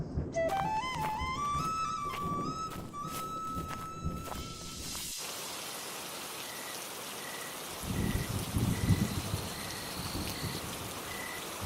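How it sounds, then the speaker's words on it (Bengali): Heavy cartoon rain falls as a steady broadband hiss after an opening musical jingle, with a faint repeating chime and a louder gusty swell of downpour near the end. "দেখলে তো আবার কি জোরে বৃষ্টি শুরু হলো"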